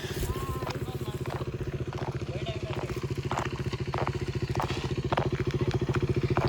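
A scooter engine runs at a steady idle, a rapid even chugging pulse that holds close and clear for several seconds with faint clatter on top and no talk.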